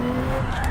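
A race car spins out in Gran Turismo 7, tires squealing in a loud, continuous skid over the engine's steady drone.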